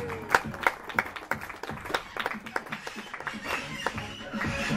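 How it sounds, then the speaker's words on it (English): Scattered applause from a small outdoor crowd at a flamingo show in Nassau, distinct individual claps with uneven rhythm and soft murmuring in the background. "And a round of applause as they come to their second stop."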